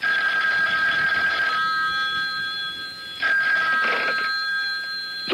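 A telephone bell rings in repeated bursts in a radio mystery drama, loud and close with short pauses between rings and no voices.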